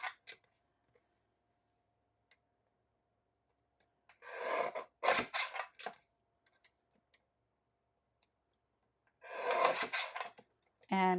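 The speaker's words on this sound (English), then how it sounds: "I'm trimming off everything down to the black panel" A guillotine paper trimmer slicing through cardstock makes two clusters of close, rasping cuts separated by quiet, the first a few quick strokes and the second a single longer swipe.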